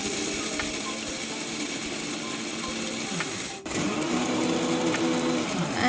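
A Preethi Peppy Pro mixer grinder runs with its 1-liter dry grinding jar on hard ingredients, giving a steady, loud whirring grind with rattling mechanical texture and a brief dip partway through before resuming.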